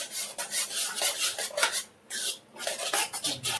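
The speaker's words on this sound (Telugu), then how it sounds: "రవ్వ వేసుకోవాలి ఇలా కలుపుకోవాలి" Semolina (rava) for upma being stirred in a pan with a metal spoon, close and continuous scraping and rubbing strokes in a fast, uneven rhythm, with one brief pause near the end.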